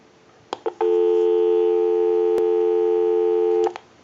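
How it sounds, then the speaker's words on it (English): A steady electronic dial tone from a Stromberg Carlson 1157 telephone hums for about three seconds, bracketed by a few short clicks before and after, clear and close with no talking. "Go ahead and give you some dial tone."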